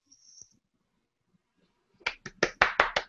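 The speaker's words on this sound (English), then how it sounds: "Yes, clapping all around." A few hands clapping in a quick, even burst of about seven sharp, close claps, fairly loud after a near-silent stretch.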